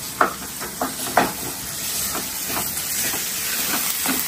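Mutton for satti soru sautéing in a pan, a steady hiss and sizzle with a few soft stirring knocks near the start, heard alone.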